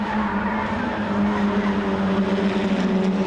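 Ford Fiesta Zetec race cars racing at Croft circuit in 2000, a loud, continuous engine drone with steady tonal whine, filling the whole stretch without any speech.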